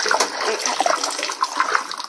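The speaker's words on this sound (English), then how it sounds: "Okay, so we're just going to rinse this off really good." Running water from a tap splashes steadily while a makeup brush is rinsed under it. The hiss and spatter are close and continuous, with no voices.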